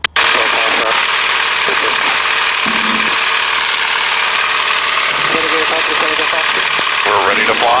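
A 600-horsepower warbird airplane engine runs at a steady, loud, droning roar with a constant vibrating hum that fills the whole stretch close up, with no one talking.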